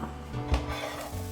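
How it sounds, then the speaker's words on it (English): Onions, garlic and celery sizzle in plenty of olive oil in a pan, a steady, dense hiss with a few soft knocks from stirring and no talking. "Whilst we're sweating off the onions and the garlic and the celery"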